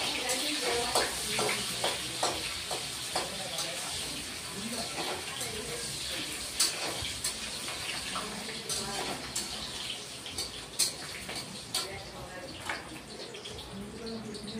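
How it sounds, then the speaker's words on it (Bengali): Potatoes frying in a pan, a continuous crackling sizzle with repeated stirring scrapes and clinks of the spatula, close and steady throughout. "আলুগুলি আগে ভেজে নিব।"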